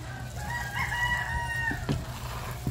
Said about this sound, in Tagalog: Ang tilaok ng manok.